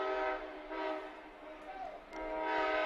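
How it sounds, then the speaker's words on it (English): A train rolls past near a baseball field during an Arkansas state high school championship game, its horn blowing loud, long, sustained blasts that dip briefly and then swell again, heard from a moderate distance. "You get the train moving through."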